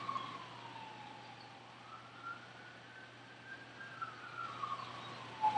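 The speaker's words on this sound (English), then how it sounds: "It's a lot of sirens." A wailing siren rises and falls steadily at a moderate distance, sustained over a low background hum with no talking.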